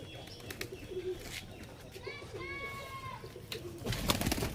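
Pigeons in a rooftop loft with kalldum and laldum breeds give out soft repeated coos and brief chirps over a steady background murmur, with a flurry of wing flaps near the end.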